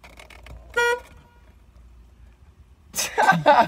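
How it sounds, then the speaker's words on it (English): Horn of a 2001 Ford Mustang, one short loud honk near the start, set between stretches of talking nearby. "let's hear the horn."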